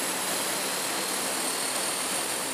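Engines of two Indonesian Air Force Hercules military transport aircraft departing from an air base in Aceh carrying humanitarian aid, a loud, steady broadband roar that runs without pause, with no voices.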